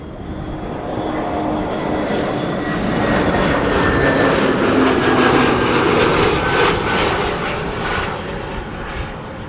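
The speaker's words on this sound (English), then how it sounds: "This is KLM flight 1402 arriving from Paris, one of KLM's A321 Neos." A KLM Airbus A321neo jet arrives at Amsterdam Schiphol airport on a windy evening, its engines producing a steady, loud broadband roar that swells in the middle and eases slightly toward the end, with no voices.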